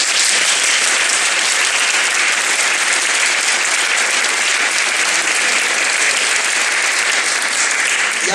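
An audience claps steadily at a cheese festival gathering, a dense, even wash of applause that stays loud and sustained throughout with no voices rising above it.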